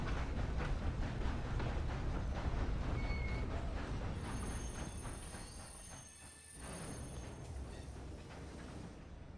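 A train runs in a roleplay video game, its loud rumbling and rattling wagons rolling steadily before easing briefly and then picking up again, with no talk over it.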